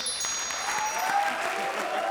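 A studio audience at a comedy show claps steadily, dense applause filling the whole short stretch at an even level, with no voices over it.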